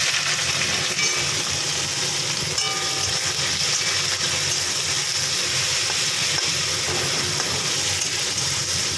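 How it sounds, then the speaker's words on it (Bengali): Capsicum and onion fry in hot oil with dried chillies, garam masala and cumin for a potato curry, giving a loud, steady hiss and sizzle that runs unbroken throughout with no talking. "এবার এই ক্যাপসিকাম আর পেঁয়াজ দিয়ে দেবো"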